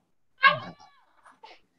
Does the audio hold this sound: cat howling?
yes